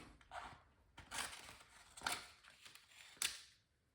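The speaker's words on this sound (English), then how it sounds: "Cut the backing off." Scissors snip the backing off a piece of pinball restoration material, several short, crisp cuts up close in a quiet room with no talk.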